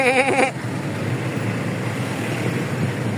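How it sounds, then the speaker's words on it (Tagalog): Goats bleating beside a road in Santa Maria, Bulacan, a short wavering bleat at the start, then steady vehicle road noise from a moving ride. "Dami yung kambing."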